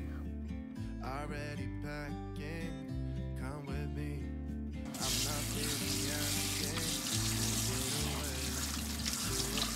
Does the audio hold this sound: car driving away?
no